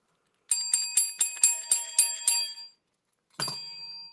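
A small bell rings about eight times in a quick, even run, then after a short silence sounds once more with a duller, rattly ring as it breaks.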